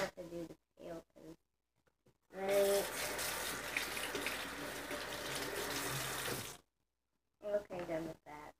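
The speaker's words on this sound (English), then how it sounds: "why is the water keep splattering everywhere?" Tap water gushes and splatters into a sink while a toy pony's hair is washed. Several seconds of loud running water sit between short bursts of a voice talking before and after.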